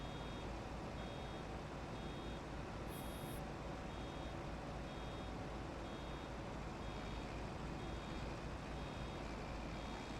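A truck's reversing alarm in Farming Simulator 25 beeps steadily and evenly over a constant engine hum, with about a dozen regular tones sounding clearly throughout.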